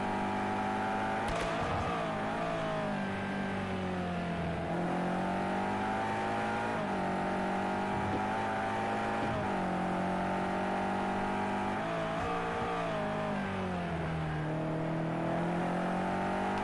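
A race car in Project CARS 2 held at full throttle on the Brno circuit, its engine a loud, steady, high-pitched howl that drifts up and down gently with brief dips, close and alone for the whole stretch.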